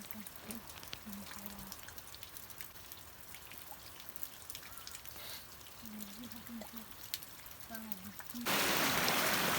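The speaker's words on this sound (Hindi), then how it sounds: "अभी थोड़ी सी बारिश हल्की हो गई है" Light rain patters steadily in the Allai Valley of northern Pakistan, with a faint voice murmuring in the background, then a louder rush of noise at the very end.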